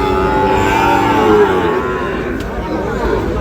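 A calf or cow lowing at a busy cattle market in Ambari, Dinajpur, where Sahiwal bull calves are sold; one loud, close, drawn-out moo rings for most of the moment over crowd murmur.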